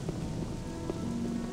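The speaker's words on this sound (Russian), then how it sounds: "Че этот дождь, блин, я бы его выключил." Steady rain pours in the video game Gothic, a dense, even hiss of falling water with scattered faint droplet taps and no voices over it.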